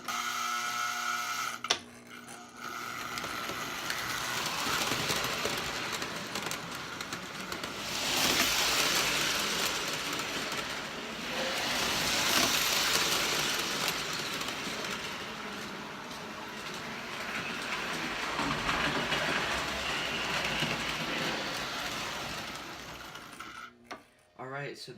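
A reassembled Lionel MPC diesel model train engine runs steadily on track for a long stretch, a continuous mechanical whir and rumble of gears and motor that swells and fades slightly as it moves, close by.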